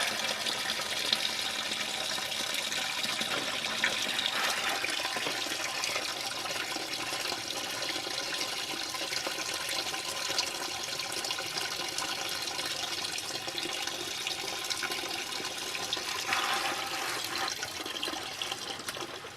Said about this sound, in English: Let that sludge drain out of there and make sure all the water's gone.